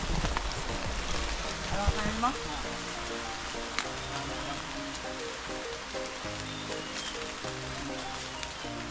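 Rain falls steadily over an outdoor harvesting site, a dense wash of patter that stays loud and continuous while people talk nearby.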